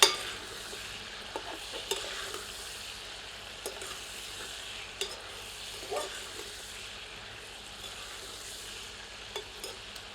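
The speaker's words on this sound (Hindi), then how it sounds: "एक बार पुनः सबको मिला देते हैं।" Rajasthani jungli maas mutton being stirred in a pot, with soft scraping and occasional clinks of the spoon against the vessel over a low steady sizzle, moderately quiet throughout.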